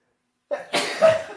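A single sharp sneeze bursts out close up, a quick inhale followed by a loud broadband expulsion, heard alone in an otherwise quiet room.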